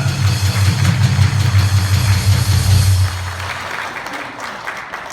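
Audience applause welcoming a theologian and seminary professor to the stage at a Korean church gathering, a dense steady wash of clapping that runs loud for about three seconds and then thins into a quieter tail.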